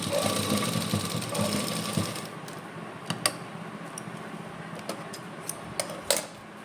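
Sewing machine stitching lace onto a kameez: a fast steady whirring run for about two seconds, then quieter pauses broken by sharp clicks and brief bursts.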